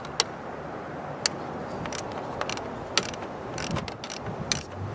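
A ratchet removes a 10mm coil pack bolt on a Cadillac CTS 2.8L, with sparse close clicks of the pawl against a steady mechanical background.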